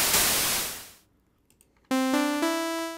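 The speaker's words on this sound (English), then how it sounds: "Last one's white noise." A burst of broadband white-noise hiss from an Ableton Analog synthesizer fades out over a second, followed after a short gap by a bright, buzzy sustained saw-wave tone.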